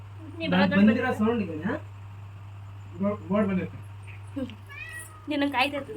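A house cat meows in several drawn-out calls near a home, heard up close over a steady low hum and between bursts of people talking.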